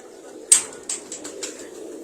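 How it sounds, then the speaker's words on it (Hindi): A racing pigeon moves near the loft, with a sharp burst that sounds like flapping wings followed by a few softer fluttering bursts over a faint background hum. "लतीफ कबूतर आ गया जी"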